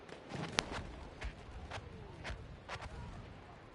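Artillery fire in a multiplayer war video game match: faint, distant booms and thuds recur every half second or so, with one sharper crack near the start, all quiet and low in the mix.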